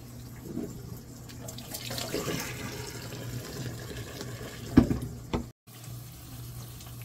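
Water is poured off a pot of boiled chicken, a rushing splash into a sink that swells and fades, with a knock near the end before a brief silence.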